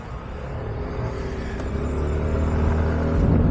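Mondial Roadboy 125cc motorcycle carrying two riders, its engine droning steadily with a low rumbling tone that rises slightly as it pulls, close and continuous with no talk.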